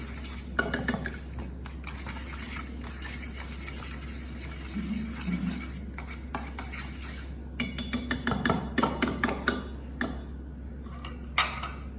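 A metal spoon stirs potato raita in a bowl, giving a steady run of clinking, scraping taps against the bowl that grow busier toward the end, close and fairly loud with no talking.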